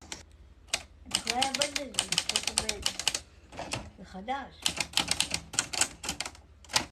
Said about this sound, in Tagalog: sinaunang paraan ng pagtatype gamit ang makinilya